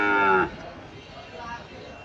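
A Sahiwal calf, about five months old, at the Chandimura cattle market in Comilla gives one loud, short moo at the start, then fades into low market murmur.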